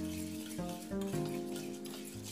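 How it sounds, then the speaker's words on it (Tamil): Mochai beans dry-frying in a pan for Tamil-style mochai payaru kulambu, a faint, steady sizzle with soft stirring scrapes and light pops, quiet and close. "நமக்கு பயிர் அப்படி நல்லா ஃப்ரை ஆகி அப்படி வெடித்து அப்படி மேலே தெரிச்சு வரும்"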